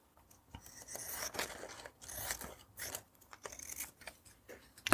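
Scissors snip through a paper doily in a run of short crisp cuts and rustles, close and fairly quiet, with no one talking.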